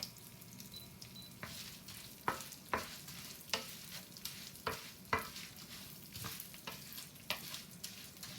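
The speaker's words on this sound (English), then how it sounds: "So my pasta is starting to get lightly brown." Fideos pasta frying in a hot pan, a soft sizzle punctuated by repeated sharp scraping stirs and rattling clicks at irregular intervals, close and fairly quiet with no speech.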